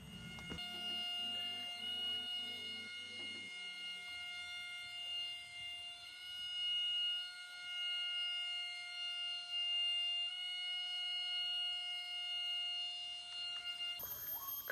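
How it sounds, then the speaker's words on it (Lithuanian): A siren wails in a national park, a steady, sustained tone holding for the whole stretch, with lower droning tones underneath for the first few seconds and no talking. "Sirenos."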